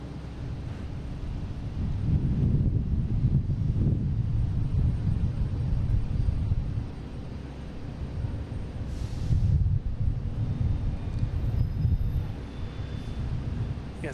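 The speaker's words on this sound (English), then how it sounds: "All right, we have a JetBlue heading to the other runway. It's going to Aruba, an A320." A JetBlue Airbus A320 bound for Aruba taxis toward runway 22 left at Boston Logan, heard as a steady, fairly distant low rumble that swells twice with a wind-like hiss on top.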